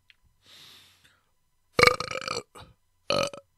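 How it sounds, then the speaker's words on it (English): A single loud, close burp right after a sip of drink, with a short guttural rasp and a couple of brief trailing gulps against near silence. "That's a good burp."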